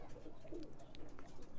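Birmingham Roller pigeons coo softly in a loft, a few low, faint, repeated coos under quiet background noise.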